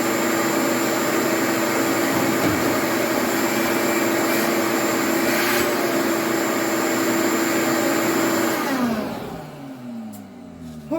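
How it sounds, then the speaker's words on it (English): A vacuum cleaner runs loudly and steadily inside the interior of a 1964 Ford Thunderbird convertible, a constant whine that winds down and cuts off near the end. "Okay, looks like we're safe to vacuum."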